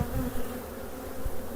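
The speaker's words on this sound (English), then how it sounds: "this is the only beehive in the front yard" Bees buzzing around a beehive in a front yard: a steady, close, droning hum with small swells as individual insects pass nearby.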